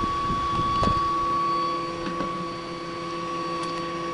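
A homemade pulse motor generator runs steadily, giving a constant electric whine with a low mechanical hum and a few faint clicks, close and alone.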